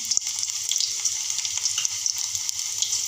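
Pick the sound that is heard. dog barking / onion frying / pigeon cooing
onion frying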